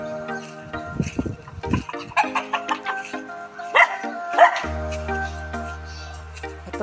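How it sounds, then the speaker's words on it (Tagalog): A farm guard dog barks repeatedly in quick yapping bursts, fairly close, over a background of steady tonal music. "at least yung tahol, maririnig mo kapag merong tao na umaali-aligid dito sa farm"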